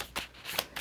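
Tarot cards being shuffled, a short soft riffle of paper slaps, quiet and close, with no talking.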